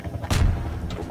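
A mine blast in the video game Infiltration: one sharp booming explosion, close and loud, followed by brief rumbling debris.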